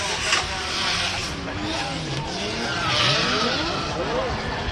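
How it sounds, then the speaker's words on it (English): A Formula Drift car at Ebisu, Japan, during qualifying powers through a transition on throttle with its tires skidding. The engine roar and sustained tire squeal are loud and continuous, with a voice faintly audible beneath. "You can hear the throttle that he had leaving outer zone 1 coming through that transition"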